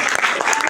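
A brief burst of dense audience applause at an indoor gathering, loud and close, with a voice faintly underneath.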